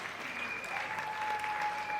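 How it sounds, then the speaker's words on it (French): Steady applause from wedding guests honouring the parents, a dense continuous clapping filling the whole stretch, fairly loud and close with no pauses. "Vos applaudissements pour le parent."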